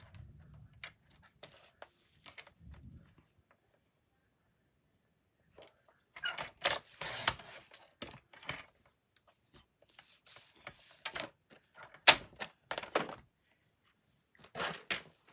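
Basic white cardstock is cut down on a paper trimmer for a stamped card, with quiet scattered sliding and cutting scrapes and clicks separated by near silence.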